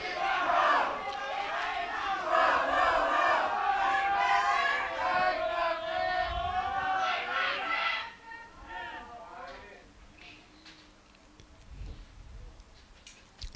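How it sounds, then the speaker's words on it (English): Loud crowd cheering and shouting from the stands at a youth compound archery individual final in Sofia, a dense roar for about eight seconds that drops away to a quieter murmur with faint clicks. "oh, the cheering behind from the stands"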